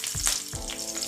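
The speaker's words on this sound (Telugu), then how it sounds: "ఇంట్లో కొంచెం ఆయిల్ వేసుకుందామండి. ఇప్పుడు పోపు వేసుకుందామండి." Mustard seeds and cumin tempering in hot oil in a pan for a chutney, crackling and sizzling in two bursts with a steady hiss between them, close and alone.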